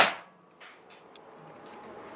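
A single sharp crack of a Predator 38 PCP air rifle shot opens the clip, followed by a quiet, faintly noisy background with no talking.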